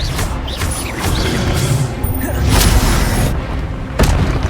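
Spell impacts land in Hogwarts Legacy, a wizarding video game: booming crashes and thuds over a dense, noisy game mix, with a couple of sharp hits standing out, and no clear talking.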